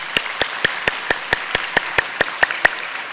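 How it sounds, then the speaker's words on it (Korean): A church service's clapping comes as a single sharp, evenly spaced clap, about four per second, each hit crisp and distinct over a quiet room, more like one person beating time than a crowd applauding. "박수로 한번 축복하십시오"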